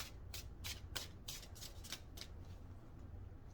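Tarot cards are shuffled by hand in quick, crisp riffling bursts. The burst of flicks early on then thins to a soft, quiet rustle in a calm room.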